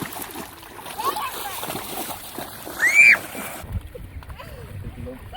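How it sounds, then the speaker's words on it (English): People splash and play in the water at a beach on a family summer vacation, with close, irregular splashes and bursts of excited voices, a shout, and chatter throughout. "You can just splash in the water with Daniel and Natalia, okay?"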